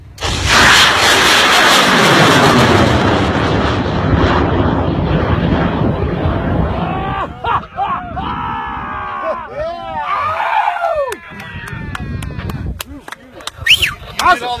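A high-power model rocket carrying a home-brewed beer keg payload launches outdoors, a loud roaring rush that starts immediately and fades over several seconds as it climbs away, with crowd voices and cheering near the end.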